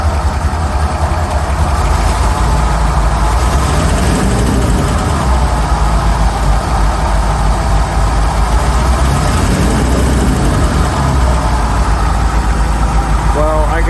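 A Rolls Royce Silver Shadow V8 idles loudly and steadily close by, a continuous smooth rumble with slight shake, after repairs that restored all cylinders.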